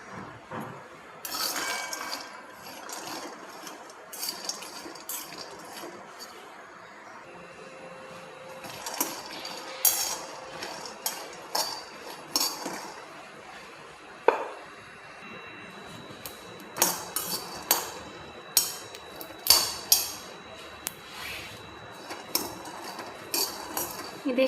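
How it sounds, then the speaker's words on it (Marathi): Peanuts dry-roasting in a pan for sabudana khichdi, with repeated metallic clinks and scrapes of a utensil against the pan, sparse at first and then coming in quick close bursts with no talking. "सर्वात आधी आता मी इथे शेंगदाणे भाजून घेते"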